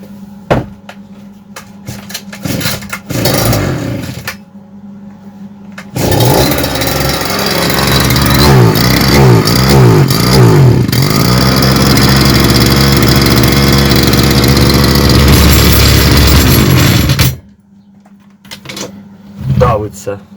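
An Emak petrol brush cutter with a faulty throttle is pull-started after a few tugs, then runs loud and close for about eleven seconds, revving and bogging down before cutting out, with talk before and after.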